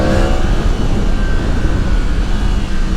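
A Yamaha MT-10 motorcycle engine roars loud and close with steady broadband drone, revving while riding with quick shifter blips blending into continuous engine and wind noise.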